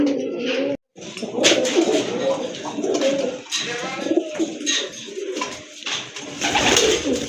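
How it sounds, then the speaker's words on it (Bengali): Rajshahi Giribaz pigeons coo up close in a pigeon-breeding loft, soft repeated throaty calls overlapping one another throughout, with a brief gap near the start. "আরেক জোড়া কবুতর দেখতে পাচ্ছেন এটা হচ্ছে আপনার টোটালি অরিজিনালি রাজশাহী গিরিবাজ কবুতর"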